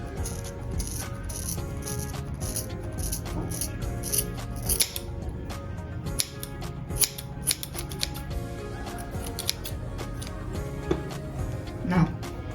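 Scissors snip repeatedly through a hair fringe in crisp, irregular bursts of short cuts, close and clear, while a voice talks over the work.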